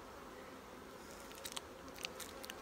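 A soft, steady insect hum of honey bees buzzing during a honey harvest fills the background, with a few faint taps and rustles over it.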